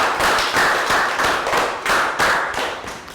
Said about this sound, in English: Round of applause for Pangpon